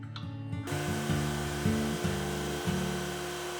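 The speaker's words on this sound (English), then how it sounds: "I ran each board through the drum sander a few times to flatten them out" Steady machine hum of a drum sander flattening glued-up wooden cutting boards, a continuous droning grind with slight pitch shifts as the boards feed through, close and alone.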